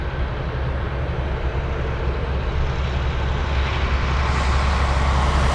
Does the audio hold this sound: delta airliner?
yes